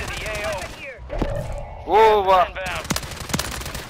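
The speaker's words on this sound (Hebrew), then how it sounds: "יש יריות פה" Sharp gunshots crack out in Call of Duty gameplay on a PS5, with a few spaced bursts near the middle and end, mixed under a player's excited voice and game sounds.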